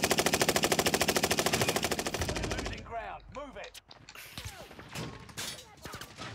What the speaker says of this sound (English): Watch out, we're getting shot, picked off up there, lads.